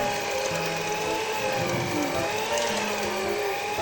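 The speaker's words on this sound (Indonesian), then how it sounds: "Aku mixer selama 15 menit dan aku pakai speed sedang aja." An electric mixer kneads bread dough at medium speed, producing a steady, fairly quiet motor whine with faint mechanical ticking and gear noise throughout, with no talking.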